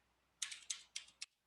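Computer keyboard keys are tapped in a short quick burst of about four or five clicks, close and fairly quiet, then stop.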